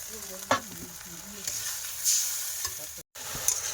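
Masala with salt, turmeric and chilli powder is sautéed in a pan, a soft low sizzle with intermittent spoon scrapes and clinks, fairly quiet and close, with a brief cut near the end.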